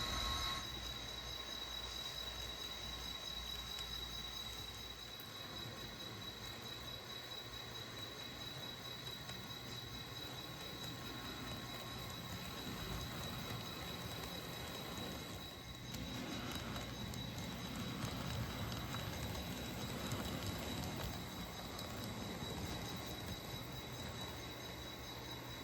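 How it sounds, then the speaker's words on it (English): A Santa Fe passenger train led by a cab car rolls steadily along the rails, its wheel and rail noise continuous and moderately distant, with a faint high squeal running through it and no voices. "The cab car eases train 8 into the station in Glen Rose."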